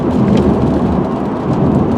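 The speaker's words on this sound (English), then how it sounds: "it is raining out a little bit" Constant rain hisses and rumbles outdoors, a dense, even wash of sound with no pauses and nobody speaking.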